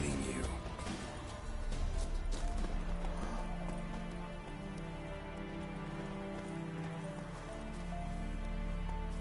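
Roach, the horse in the video game Witcher 3, gallops with a steady run of hoofbeats under a dense, even wash of game ambience and music.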